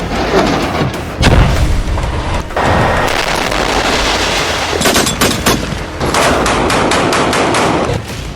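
Israeli bomb and missile strikes on Gaza, heard as loud, dense bursts of gunfire and booming blasts, with sharp cracks cutting through a continuous roar.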